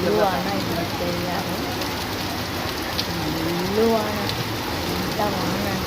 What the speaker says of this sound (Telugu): ఎంత వాన అంటే గాలి వాన